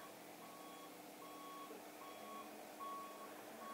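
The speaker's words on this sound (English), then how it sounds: "Who's got a van that beeps?" Intermittent high electronic beeps of a reversing moving van, four or five evenly spaced tones sounding some distance away over a steady outdoor hum.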